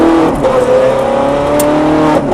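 A Ferrari F430 howls at full throttle on a racetrack, its engine note climbing loudly and close for a couple of seconds.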